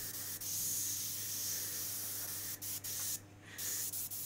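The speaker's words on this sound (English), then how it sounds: "I've switched my airbrush and I'm using an HPA" An airbrush sprays paint for background art on a car-wreck design, a close, steady hiss with a few quick breaks and one short gap near the end.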